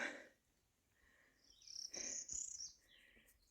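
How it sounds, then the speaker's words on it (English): Birds sing in the distance in a quiet spring outdoor setting, with a few soft chirps and then a brighter burst of high, trilling song, faint against a hushed background. "Got a couple of birds singing up here."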